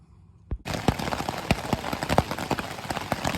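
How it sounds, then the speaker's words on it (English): Heavy rain strikes the outside of a hiking tent on the Appalachian Trail near Bear Mountain, a dense, steady patter with sharp individual drop impacts, loud and close, starting abruptly after a brief quiet moment. "every time the rain hits the outside of the tent, it knocks some of the condensation off on me"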